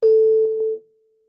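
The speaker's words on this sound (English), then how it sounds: "440 Hertz." A steady 440 hertz pure test tone, played in a physics lecture, sounds as a clean single pitch for under a second before fading out quickly, with faint overtones and a soft bump partway through.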